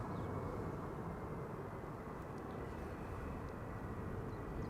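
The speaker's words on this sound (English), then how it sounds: "Delta Airlines flight 74 arriving from Atlanta, Georgia" A Delta Airlines Airbus A330-300 arriving at Amsterdam Schiphol on a sunny day makes a continuous, broad jet roar that holds steady at a distance, with no voices.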